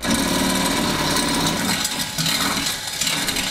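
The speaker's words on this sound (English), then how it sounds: "we're drilling at an angle into a square hole, the likelihood of the drill bit catching and breaking is extremely high" A power drill bores at an angle into a square hole in the steel frame of a 2017 Ford Edge during a Blue Ox base plate install, giving a loud, continuous grinding whine with rattling, uneven bite.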